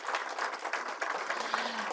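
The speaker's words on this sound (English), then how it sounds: "Give her a huge round of applause." An audience at a press conference on DC statehood applauds a senior advisor, steady dense clapping from a crowd that continues evenly for a couple of seconds.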